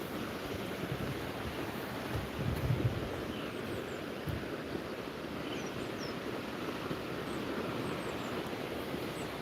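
Steady wash of surf and wind at Chuam beach in Samcheok, Gangwon-do, a constant broadband roar with a slight swell near the third second, no voices.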